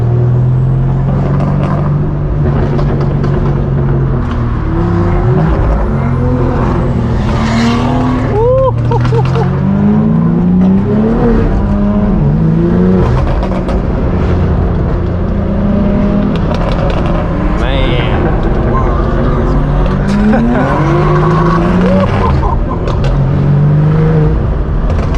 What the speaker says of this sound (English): And then we have the other Corey behind us in his red M4, and it's just sounding so good, man.